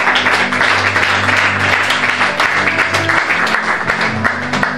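A church congregation bursts into sustained applause during a Bible teaching service, loud and dense throughout with a low instrumental drone beneath the clapping.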